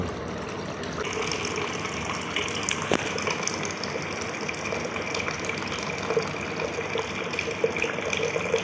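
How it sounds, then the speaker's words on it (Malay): Water drains in a steady, continuous gush from the hot and cold tanks of a Coway Neo water filter, with a faint mechanical hum underneath and no pauses. "kita kena keluarkan air di dalam Kowe ni lah, air panas dan air sejuk"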